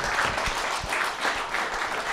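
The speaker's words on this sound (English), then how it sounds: "Give him an applause." An audience at a comics talk with guest Grant Morrison breaks into applause, a dense sustained clatter of clapping hands filling the room, moderately loud and steady for a couple of seconds.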